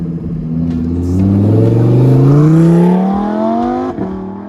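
A 2020 Lamborghini Huracan EVO RWD Spyder engine revs up loudly, pitch climbing steadily over a few seconds, then dips briefly as a gear shifts near the end.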